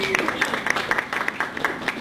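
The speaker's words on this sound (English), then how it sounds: "Let's give her a round of applause." Applause from a meeting audience, a dense patter of many hands clapping throughout, fairly steady and moderately loud, with faint voices mixed in.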